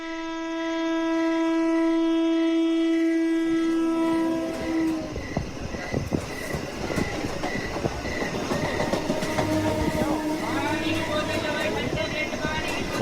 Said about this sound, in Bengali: ওই যে ট্রেন এসে গেছে, তোর প্যাসেঞ্জার এবার নামবে রে।